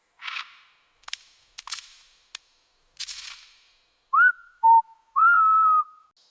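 A lyrebird mimics other sounds in the Australian wild: sharp clicks and cracks like snaps or shots, then clear whistled notes, each brief and distinct against silence.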